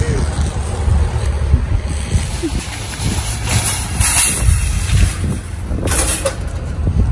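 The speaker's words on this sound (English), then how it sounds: "Plus it's windy outside if you guys can hear me." Strong gusty wind buffets the microphone outdoors, with a low rumbling roar that rises and falls and faint voices underneath.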